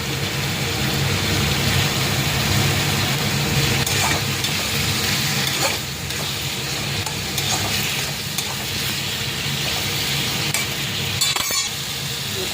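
Folui fish frying in a pan with capsicum and tomato, a steady dense sizzle and hiss running throughout, close and continuous, with occasional faint clinks of a utensil stirring.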